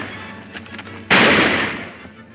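A single sharp gunshot cracks out loudly in a 1935 Western serial, a sudden burst that decays over about a second after a quiet moment.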